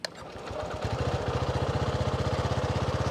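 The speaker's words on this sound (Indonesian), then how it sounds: "menyalakannya juga suaranya cukup halus" A TVS XL100 scooter engine is electric-started with a brief cranking burst, then settles into a close, steady, evenly pulsing idle with a regular chugging rhythm.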